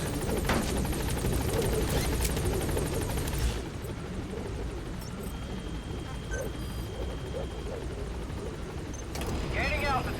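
A helicopter climbs in the video game Metal Gear Solid V. Its loud, steady rotor and engine roar fills the first few seconds, then drops to a quieter, continuous drone with faint game tones and effects layered over it.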